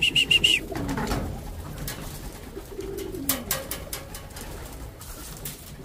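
Racing pigeons feeding on a special derby seed mix after a 269 km race, with faint bird calls and a soft coo near the start over a steady background of light pecking and shuffling.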